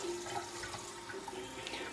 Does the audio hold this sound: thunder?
no